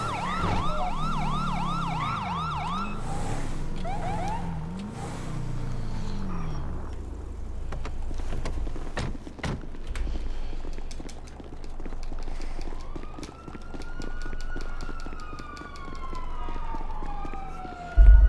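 A GTA 5 police car siren wails and yelps in rising and falling sweeps, loud and close at first, then fading into a more distant wail amid engine and street noise; no talk is heard.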